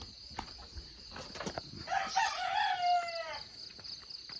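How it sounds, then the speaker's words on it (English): A rooster kept under a house on a farm crows once in a long, wavering call, moderately close, with faint background rustling and a steady high hum before and after. "They got rooster here under the house."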